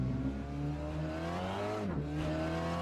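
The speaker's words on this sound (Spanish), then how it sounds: "metemos primera, salimos despacito" A Seat Leon TCR race car in a racing simulator pulls away slowly in first gear, its engine a steady close drone with harmonic whine, rising briefly before a short dip at a shift and then holding on.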